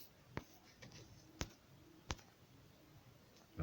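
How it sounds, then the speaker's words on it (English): Computer mouse clicking while navigating a movie menu: a few sharp, isolated clicks spaced about a second apart over faint background hiss. "You keep clicking."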